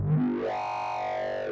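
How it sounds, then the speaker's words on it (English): Synthesized creature growl from a wavetable synth with heavy distortion, a single sweeping snarl that rises in pitch and holds steady, buzzy and harmonically rich, heard alone without talk. "put a distortion on here, just turn it up all the way honestly, and then set the mix down"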